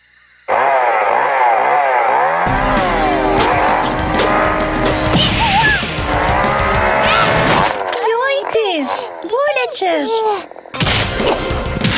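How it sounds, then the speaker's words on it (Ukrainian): A loud buzzing chainsaw in the video game Punch Punch Forever revs and whines continuously, with rising and falling pitch sweeps, close and dominant, in a synthetic game-like soundscape. "Моя маленька бензопила"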